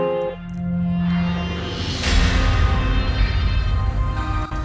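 A cinematic impact hit from Heavyocity's Gravity library, a sustained tonal drone that swells into a heavy booming hit near the two-second mark, followed by a dense roaring low rumble and bright wash that carries on, loud and unaccompanied by speech.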